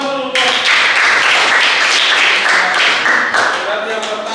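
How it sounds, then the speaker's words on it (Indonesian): Classroom applause at a vocational high school, a dense steady patter of many hands clapping at once, loud and continuous throughout with a few voices rising over it. "Beri tepuk tangan dulu buat."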